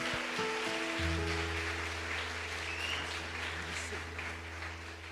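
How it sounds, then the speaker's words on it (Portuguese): An evangelical church congregation applauds in a sustained, even wash of clapping, with a low steady hum running underneath. "Uma salva de palmas pela vida dele."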